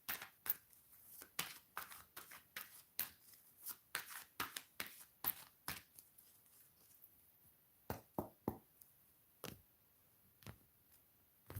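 Tarot cards are shuffled by hand in a long run of crisp riffling snaps and slaps, close and fairly quiet, with a short pause before a few final flicks and no talking.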